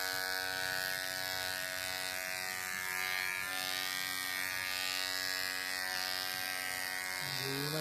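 An electric hair clipper shaving a head bald gives a steady, close, high-pitched buzzing hum that holds evenly for the whole stretch, with faint murmuring in the background.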